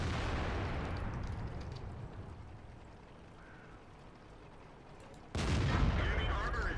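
Tank guns in World of Tanks, a heavy rumbling blast that fades over several seconds, then a second sharp, loud report near the end, with no talk.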